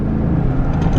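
A car accelerates hard along a main road, a steady loud engine rumble with low harmonic tones holding through the second, close and continuous with no talk.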